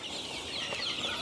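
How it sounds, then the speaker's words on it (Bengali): Egyptian Fayoumi chickens on a farm clucking while being fed, a brief mix of soft overlapping clucks and chatter at moderate distance, no talking. "আমি এখন মুরগিগুলোকে খাবার দিচ্ছি"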